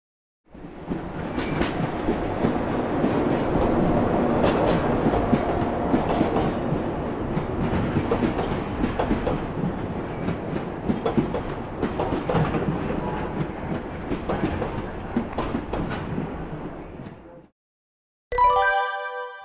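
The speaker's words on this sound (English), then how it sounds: "Freight train." JR Kagoshima Line freight train rolling past, a long loud rumble with wheel clatter over rail joints that builds, holds for many seconds, then cuts off, followed by a brief bright chiming tone.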